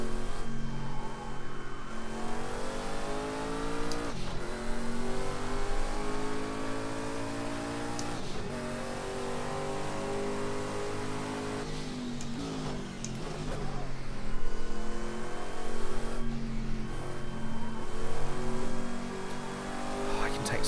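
A Group C race car engine in Project Cars 2 revs hard around the Brno circuit, sustained high-pitched droning with repeated rises and drops through gear changes, under intermittent talk.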